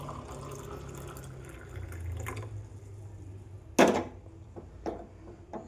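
Hot water poured gently into a tumbler gives a soft, quiet trickle and splash under a faint background hum, with a sharp clink or splash near the end followed by a few small drips.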